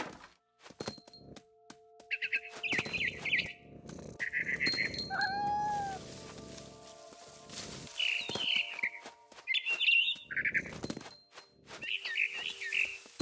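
A cat meows repeatedly in the video game What Remains of Edith Finch, short plaintive calls spaced across the scene with a drawn-out yowl in the middle, mixed with faint bird chirps and soft thuds, no talking.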